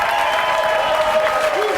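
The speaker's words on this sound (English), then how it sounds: "And all of this applause is for you" Loud, sustained audience applause fills a stage hypnosis show, a dense unbroken wash of many hands clapping with a faint tonal hum running underneath.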